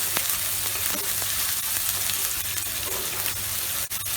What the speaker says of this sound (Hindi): हल्का सा प्याज को हम ब्राउन करेंगे। गैस का फ्लेम हाई रखेंगे।